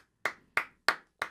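Four separate claps come at a slow, even pace. Each one is sharp and fairly close, with short silent gaps between them and no talking, as if a few people are being made to clap along.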